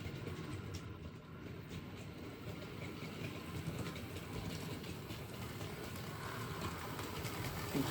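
A model railway train runs steadily along its track with a continuous low rumble and faint rhythmic clicking, heard close and alone without talk.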